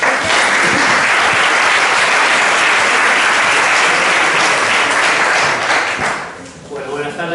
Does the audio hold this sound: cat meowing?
no